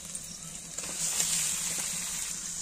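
Chicken meat hits hot frying masala spiced with turmeric and salt, giving a bright, hissing sizzle that swells after the first second and holds steady, close and moderately loud with no talking.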